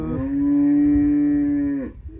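A dairy cow kept on a farm lets out one long, loud, steady moo that holds for about a second and a half before trailing off, with faint background noise and no talk.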